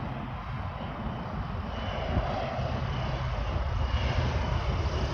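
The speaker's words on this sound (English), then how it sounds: "we got an extremely small plane flying into DFW." A very small plane flies in to land at DFW airport on a windy day, its propeller engine droning as a steady, fairly loud hum that swells slightly over a few seconds.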